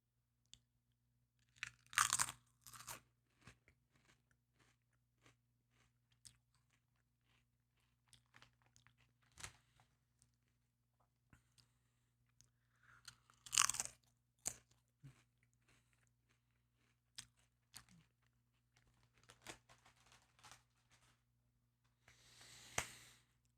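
Ridged potato chips flavoured like prime rib and horseradish being bitten and chewed, with loud close crunches in bursts around two, fourteen and twenty-three seconds and softer chewing between, no talking.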